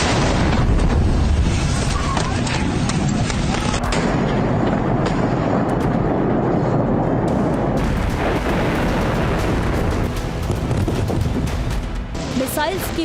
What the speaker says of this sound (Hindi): ईरान ने इजराइल पर 150 से ज्यादा बैलिस्टिक मिसाइलें दागी